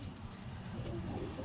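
Birmingham Roller pigeons cooing softly in a loft, low murmuring coos running steadily through the whole stretch with faint background noise.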